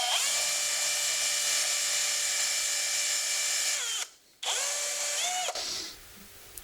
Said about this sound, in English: Drilling rubber, bad idea